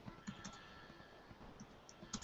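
Quiet, irregular tapping of keys on a computer keyboard, a few scattered clicks with short pauses between them.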